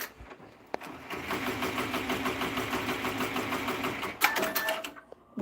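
An embroidery machine stitches a patch with a steady, rapid mechanical chatter close by, running continuously with a brief louder clunk near the end.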